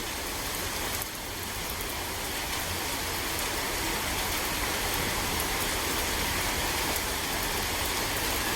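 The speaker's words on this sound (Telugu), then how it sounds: "ఇట్లా పడుతుంది వాన." Rain pours steadily over a farm garden with mango trees. The dense, even hiss continues unbroken throughout, with no voices.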